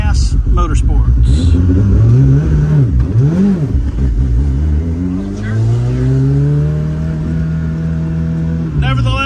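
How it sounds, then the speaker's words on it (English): A 600-horsepower Ford RS200 Evolution drives through city traffic, its engine revving close by in rising and falling sweeps as it accelerates, with a voice talking over it. "we're doing another driving video here of this Ford RS200 Evolution"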